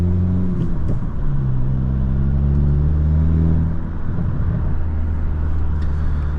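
A 2022 Hyundai Elantra N with manual transmission idles and revs with low, rumbling exhaust burbles, steady and close throughout.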